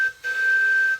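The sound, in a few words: whistle of model live steam Allen Mogul locomotive on air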